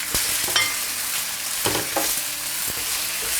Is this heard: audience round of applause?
no